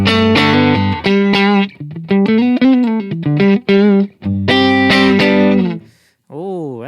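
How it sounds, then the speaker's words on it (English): Clean electric guitar played through a Line 6 Helix modelling a Fender Super Reverb amp and Super Reverb 4x10 cab: loud, bright chords and sustained notes in short phrases, ending with a wavering vibrato bend. "Ooh, that sounds nice and clean and crisp and juicy."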